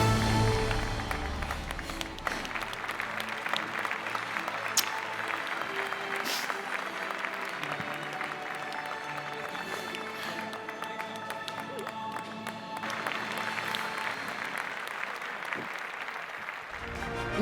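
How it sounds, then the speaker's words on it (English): An audience at a speech contest grand finale applauds the champion with sustained, dense clapping and some crowd noise throughout, the clapping loud and continuous and easing slightly near the end. "Let's applaud our title winner."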